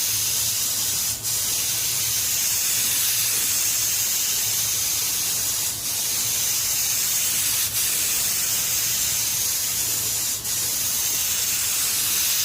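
Rust-Oleum spray paint hisses steadily from an aerosol can onto a Club Car golf cart, laying down a full wet coat, with a continuous close hiss and brief pauses between passes.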